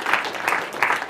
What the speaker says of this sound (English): Round of applause for volunteer.